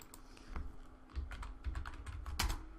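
Quick keystrokes on a computer keyboard, a handful of soft, close clicks tapped out in a short burst over a faint steady hum.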